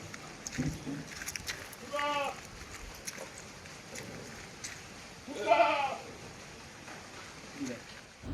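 A Malabari milking goat, eight days after kidding, lets out two clear, close bleats a few seconds apart while people talk nearby.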